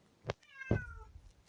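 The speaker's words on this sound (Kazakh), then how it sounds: "Анау мысық қой достар, мән бермеңіздер." A cat indoors gives a short chirp, then a longer, clear meow. The calls are near but fairly quiet, with near-silence around them.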